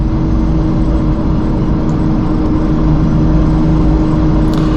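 Steady, loud drone of a 1995 E300 super turbo diesel car with an uprated diesel injection pump running at speed during a fast 0-to-60 pull, heard from inside the cabin with no voices.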